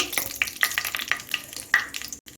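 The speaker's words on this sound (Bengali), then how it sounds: "তিনটে এলাচ আর দারচিনি শুকনো লঙ্কা তেজপাতা ফোড়ন দিয়ে দিচ্ছি এখন ফোড়নটাকে একটু ভেজে নিচ্ছি" Whole spices fry in hot oil: three cardamom pods, cinnamon, dried red chilli and bay leaf. A close, busy sizzle carries a run of sharp spatula scrapes and taps before a brief sudden drop to quiet.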